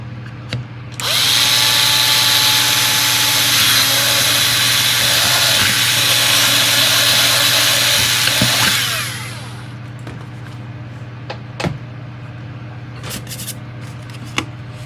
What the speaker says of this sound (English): we're going to drill through it.